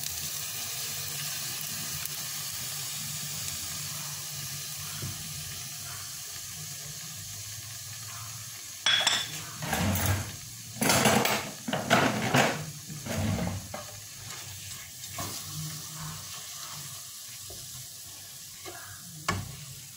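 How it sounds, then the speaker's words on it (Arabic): Chicken searing in a hot pan, a soft continuous sizzle that breaks into bursts of loud stirring and scraping partway through, close and without talk. "نشحروا الدجاج مزيان"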